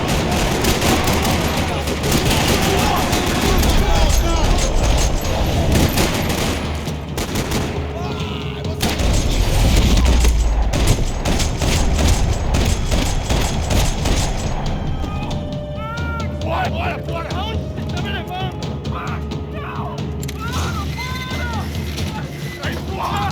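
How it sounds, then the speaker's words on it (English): Loud, sustained bursts of rapid gunfire with occasional heavy booms in a parking lot in the video game Max Payne 3, the shooting continuing almost without pause, with voices mixed in. "Another parking lot rattling with gunfire."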